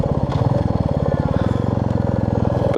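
A Royal Enfield motorcycle rides along Lower Valley Road in Beaver Valley, Ontario, over a packed track. Its single-cylinder engine thumps in a close, steady rapid pulse with slight rises in revs.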